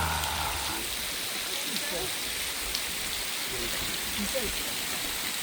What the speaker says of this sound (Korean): 비 온다, 비.